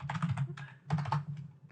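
Brisk typing on a computer keyboard: two quick bursts of close, crisp key clicks with a short pause between them.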